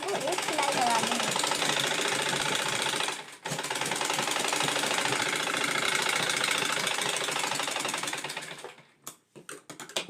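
A sewing machine runs a seam along a blouse's lining half an inch from the edge, giving a steady, rapid mechanical whir and clatter that continues for most of the time, with a brief pause near the middle and stopping near the end.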